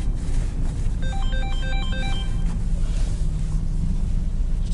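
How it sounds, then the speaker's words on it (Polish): A phone ringtone plays a short melodic pattern of electronic tones, repeating for about a second and a half over steady road and engine rumble. "Telefon."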